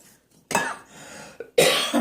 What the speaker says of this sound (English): That plus I already have a cough.